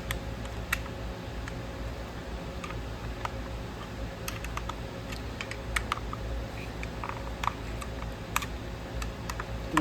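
Small sharp clicks and ticks from a flathead screwdriver prying off trim parts on a Ford Edge during a lift kit install, scattered and irregular over a steady low background hum, close and fairly quiet.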